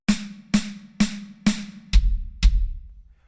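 Drum pattern of four crisp snare hits followed by two deep bass drum thumps, evenly spaced and close.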